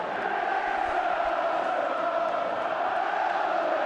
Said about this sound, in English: The crowd shouting whatever will be, will be